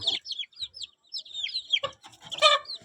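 Native-breed chicken chicks peep in a quick run of high, thin chirps, several birds calling over one another close by, with a denser burst of cheeping near the end.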